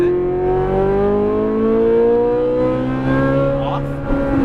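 A Ferrari 458 Italia on a race track pulls under throttle, its engine note rising smoothly and steadily, loud and close, with an instructor's voice faintly in the background.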